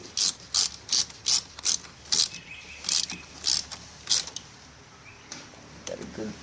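A ratchet wrench tightening a bolt on a Vectrix electric motorcycle, about ten crisp, evenly spaced clicking bursts up close, then a pause with a few faint clicks.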